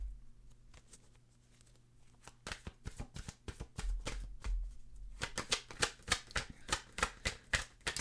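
Tarot cards being shuffled and drawn, with quiet handling at first, then a run of crisp, rapid riffling and flicking bursts in a steady rhythm, close and fairly soft.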